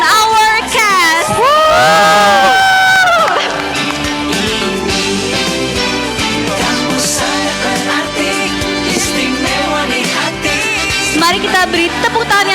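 A crowd at a stage drama exhibition in Bulungan whoops and shouts loudly, with high excited cries early on, then a sustained mix of cheering and voices over loud background music.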